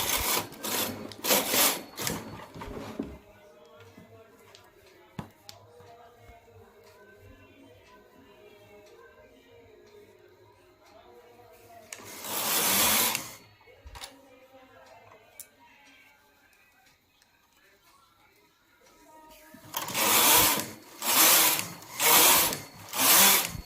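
A knitting machine works plain rows of a hoodie panel, its carriage producing loud bursts of rattling, clacking passes near the start, once midway and in a quick series at the end, with quieter mechanical ticking in between.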